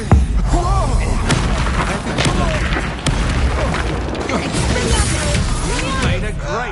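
Confringo blasting spell explosions in the Hogwarts Legacy video game, a dense run of loud booming blasts and impacts over busy combat noise, with voices shouting throughout.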